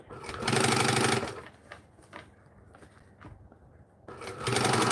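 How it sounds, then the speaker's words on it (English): A sewing machine runs top stitching along the outside edge of a piece, with two loud, steady, close bursts of rapid mechanical whirring and a quieter pause of light clicks between them. "I am now going to top stitch, but just the outside."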